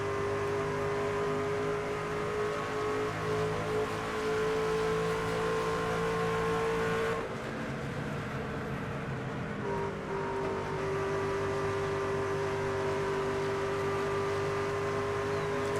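Stock car engines in the NASCAR 25 racing game hold a steady sustained drone, with a brief shift in pitch partway through as the car runs in traffic, no talk over it.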